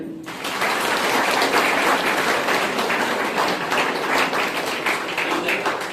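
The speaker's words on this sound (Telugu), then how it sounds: "ఇది హెల్మెట్ పెట్టుకుని వచ్చే స్టూడెంట్కి అందరూ క్లాప్స్ కొట్టండి" A crowd claps steadily for a student who came wearing a helmet, at a road safety month event, dense continuous applause lasting several seconds with no voices over it.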